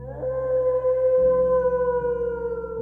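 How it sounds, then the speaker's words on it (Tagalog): An eerie dog howl, used as a sound effect in a horror story, rises then holds as a long, sustained wavering tone, loud and close with no voices over it. "Natigilan ako nang marinig ang nakakakilabot na alulong ng aso."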